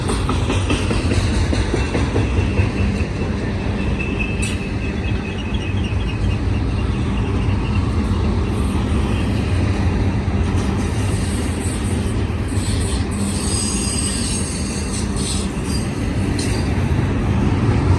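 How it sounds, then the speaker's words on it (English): A westbound BNSF domestic double-stack freight train rolls steadily past close by, a continuous loud rumble of wheels and cars with faint squeals and clicks, no voices. "JB Hunt train."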